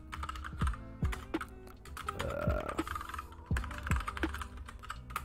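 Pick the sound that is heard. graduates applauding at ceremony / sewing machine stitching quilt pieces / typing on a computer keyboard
typing on a computer keyboard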